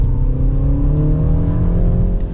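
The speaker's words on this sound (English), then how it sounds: "Very good throttle response from the engine" A 2025 Mini Countryman S ALL4 engine pulls strongly under acceleration, its loud rising drone heard from inside the cabin with the revs climbing steadily and no speech over it.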